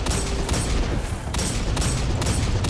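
Loud, dense gunfire from a first-person shooter video game, where a sniper rifle is in use, with several sharp broadband bursts spread across a short stretch of continuous battle noise.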